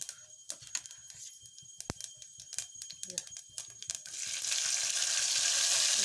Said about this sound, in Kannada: ನಾ ಕರಿಬೇವು ಬೆಳ್ಳುಳ್ಳಿ ಹಾಕ್ಬೇಕು